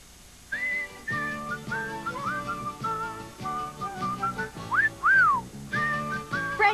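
A bright whistled jingle from an Irish Spring soap commercial, a clear melodic tune with rising slides over a steady backing of light instrumental music, close and prominent.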